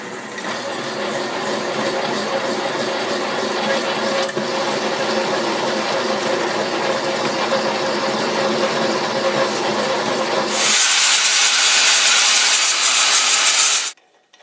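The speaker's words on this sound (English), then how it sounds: "I'll take it over to the Atlas closing drill press and finish drilling them." A drill press drills holes in metal with a steady, continuous grinding whir, shifting midway to a harsher, hissier cutting tone before stopping abruptly.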